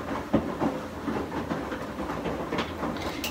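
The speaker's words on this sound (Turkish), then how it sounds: "Gelişi güzel doğruyorum zaten," A sharp knife chops food on a cutting board in quick, uneven taps, close and moderately loud, with no voices.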